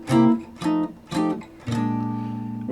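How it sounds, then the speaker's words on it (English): A sequence of four sustained jazz dominant seventh chords played on a keyboard instrument, each struck cleanly, the last held longer, with no talking. "if you play more of those dominant 7 chords, it sounds like this"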